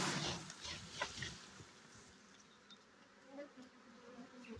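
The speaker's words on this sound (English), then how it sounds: "I'll give it a bit of a shake and get the bees straight into the box." A honeybee swarm shaken into a hive box makes a dense, close buzzing hum with brief louder surges, steady drone continuing throughout without talk.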